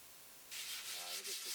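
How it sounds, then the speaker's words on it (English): Close, steady rubbing of sandpaper across a boat hull by hand, starting abruptly after a short quiet moment and continuing in smooth strokes. "hand sanding the hull didn't really take us that long"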